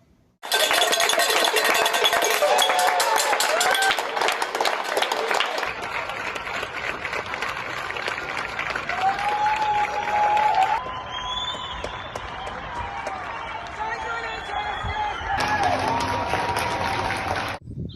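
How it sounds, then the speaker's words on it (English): Neighbours across London clapping outdoors in thanks to the NHS, a dense, sustained patter of many hands with clinking and cheering mixed in, continuing steadily throughout at fairly close range. "These are people right around London going out and clapping to give thanks to the NHS."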